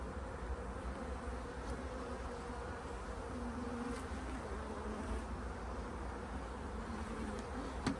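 Honey bees buzz around a hive in a dense, steady drone, many insects close by and continuous, with no voices.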